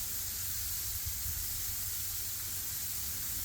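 Shrimp sizzles on a hot Blackstone griddle, a continuous loud, even hiss with a low rumble underneath, steady and close with no breaks.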